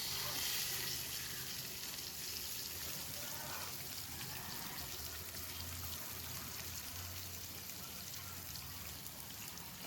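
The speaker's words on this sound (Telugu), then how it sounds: "మనం చిన్నగా కట్ చేసి పెట్టుకున్న ఒక పెద్ద సైజు ఉల్లిగడ్డని కూడా ఇందులోనే వేసుకొని మంచిగా ఫ్రై చేసుకుందాం." Chopped onion and pepper frying in a pan for Hyderabadi chicken korma, a continuous dense sizzle with faint stirring, steady and close throughout.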